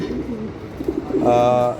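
White Danish pigeons with red markings coo softly in short throaty bursts, then a louder, steadier harmonic call rises near the end, close to the listener.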